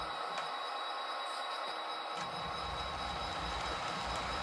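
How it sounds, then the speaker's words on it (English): A model railroad through freight train rolls away from the area, a steady close rumble of wheels and running gear filling the layout room with faint high ringing tones above it. "So our through freight is now departing the area."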